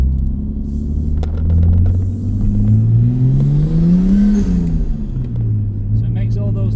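Nissan Skyline R34 GTT with a 2.5 single-turbo engine driving on a road, loud droning engine rising and falling in pitch as it accelerates and eases off, with a voice talking over it.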